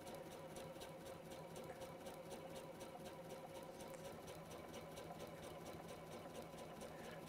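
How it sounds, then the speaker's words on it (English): A sewing machine stitches along a seam line with a fast, steady mechanical whirr and rapid needle ticking, unbroken for the whole stretch, close and loud with no voices. "sew directly on top of that stitch line as much as you possibly can"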